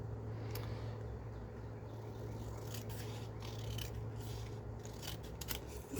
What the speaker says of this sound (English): I'm going to cut it in half.